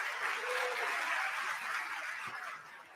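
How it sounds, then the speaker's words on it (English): An audience at an awards event applauds in a sustained wash of many hands clapping together, dense and fairly distant, fading slightly toward the end. "Can we give them another round of applause?"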